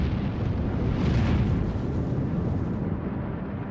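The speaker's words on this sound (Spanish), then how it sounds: "Estas son las erupciones solares y las expulsiones de masa de la corona en el momento de la explosión de" A sustained, dense roar like a massive eruption or explosion, depicting a solar flare with coronal mass ejection from sunspots, loud and continuous throughout with a swelling rumble partway through and no voices.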